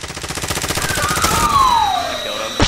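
Rapid automatic gunfire in the battle royale shooter Call of Duty: Warzone, a loud close stream of evenly spaced shots, with a descending whistling tone sliding across it and a sharp hit near the end.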